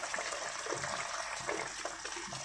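Water gushes steadily from a container into a chicken steak mixture in a cooking pan, a close, continuous pouring wash that runs for a couple of seconds with no talk over it.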